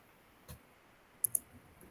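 A computer keyboard's Enter key pressed, two quick close clicks near the middle after an earlier soft tap, otherwise near silence.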